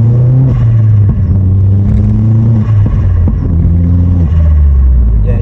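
A Vauxhall Astra VXR with a Scorpion exhaust system burbles loudly up close, a deep throbbing drone whose pitch dips and rises through a few gentle throttle changes, with no one speaking.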